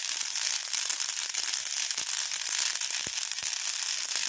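Small mustard seeds spluttering in hot oil, a dense continuous crackle and hiss with scattered sharper pops, close and steady throughout.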